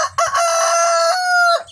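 A breeder rooster crows once, loud and close, in a full drawn-out cock-a-doodle-doo with no other sounds around it.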